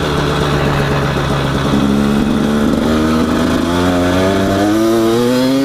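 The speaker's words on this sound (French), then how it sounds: "T'es comme ça, t'es avec ta moto et tu roules." An enduro motorcycle engine roars loudly and steadily up close, its pitch climbing as the bike accelerates.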